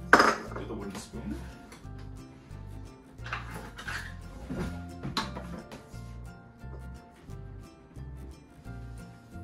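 Wooden spoon stirring homemade pretzel dough in a bowl as flour is added bit by bit: a steady, rhythmic series of soft knocks and scrapes against the bowl, with some quiet talk.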